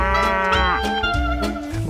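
Cows at a dairy farm on Camiguin island low repeatedly in drawn-out, overlapping moos, loud and close, filling the clip with no talk.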